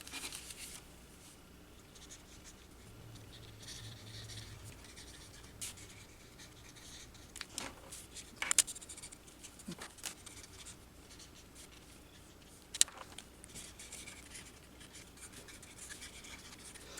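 Markers scratching across a paper card while a stand-up step fold card is colored in, a soft continuous scribbling under low room noise with a few sharper ticks and taps along the way.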